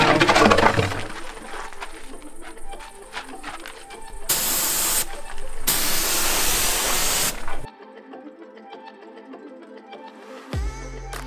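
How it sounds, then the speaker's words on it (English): Spray gun painting a Fiat Ducato van outdoors, heard as two loud sustained hissing bursts of a few seconds each amid busier handling noise, then quieter background and a brief knock near the end. "We didn't have much of a choice but to spray the paint outside."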